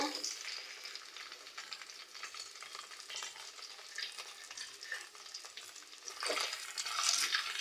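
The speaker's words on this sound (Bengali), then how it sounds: "এক পাশ ভাজা হয়ে গেছে, এবার ওই টাইমে উপর পাশটাও ভেজে নেব" Roopchanda fish fries in oil in a frying pan, a soft, fairly quiet sizzle running continuously, with light crackles and a slight swell toward the end.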